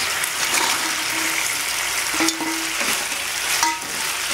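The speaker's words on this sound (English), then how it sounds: "Now we will add our fried baby corns" Fried baby corn is stirred into bubbling sauce in a hot pan, giving a loud, constant sizzle with scraping stirring strokes and occasional clinks, close up with no talking.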